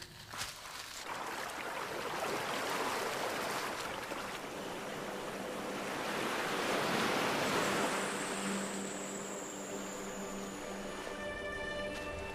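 Sea waves wash steadily onto the shore of a Philippine island, a continuous broad surf roar swelling gently without voices.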